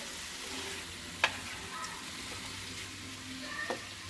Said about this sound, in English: Mix it up, you get it brown.